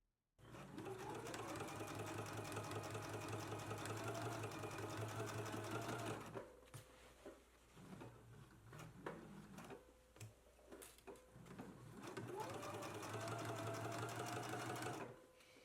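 A sewing machine runs a top stitch on a garment in steady rapid mechanical bursts, stopping for a few seconds of quiet handling before starting again, close and clear with no talking.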